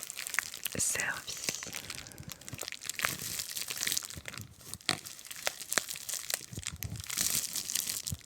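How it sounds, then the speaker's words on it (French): Bubble wrap crinkles and crunches while being handled during an unboxing of artisan candles, close, crisp rustling bursts with soft whispering throughout. "Celles et ceux qui aiment le papier bulle vont être servis."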